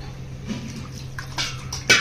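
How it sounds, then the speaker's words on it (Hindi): Water is poured over strained food in a mesh strainer to rinse it while making pani puri at home, heard as soft splashing and trickling that ends in a louder gush, with no talking. "इसमें पानी भी डाल देंगे थोड़ा सा, ताकि धुल जाए ये अच्छे से।"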